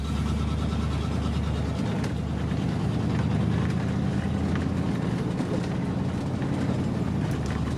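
An old OBS Chevy truck drives down the road with a steady, loud engine drone and road rumble, the engine note rising and settling as it shifts through its gears.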